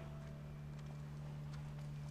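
Horse hooves clip-clop at a steady walking rhythm in the video game The Last of Us on PS5, faint and soft beneath a constant low hum of game ambience.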